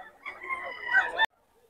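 Rooster at a busy Bocaue market, crowing once in a short, loud call that cuts off abruptly, with faint crowd noise behind.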